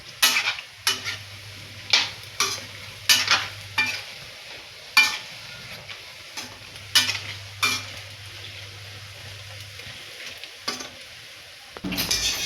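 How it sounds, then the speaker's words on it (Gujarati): Fenugreek and potato bhajiya fritters fry in hot oil with a steady sizzle, while a utensil stirs and clinks against the pan in regular sharp taps; there is a low hum in the background. "તો આ તો ભજીયા તળાય છે."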